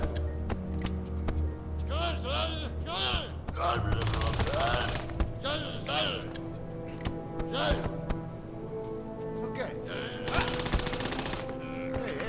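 Gunfire in the Evil Genius video game: bursts of rapid automatic shots and single cracks, moderately loud, mixed with chattering character voices and game effects.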